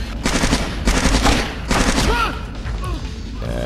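Rapid bursts of gunfire in the stealth video game Splinter Cell on PS2, during the Kalinatek mission, loud and close in several clustered volleys with brief gaps, followed by fainter electronic chirping tones.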